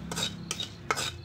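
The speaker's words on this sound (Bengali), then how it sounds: "এখন আমরা একটু নাড়াচাড়া করব।" Chili and salt being stirred in a dry pan, with a few distinct scraping clinks of a spoon against the metal at close range and no talk.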